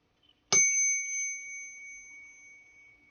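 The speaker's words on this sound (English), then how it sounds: "let me ring my bell first" A single hand bell is struck once and rings clearly with a bright metallic tone, its steady high overtones slowly fading over about two and a half seconds in an otherwise quiet room.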